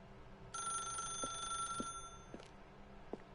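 An old telephone rings in the video game The Stanley Parable, a bright electronic trill lasting about two seconds over a faint low hum, with a few soft clicks and taps around it.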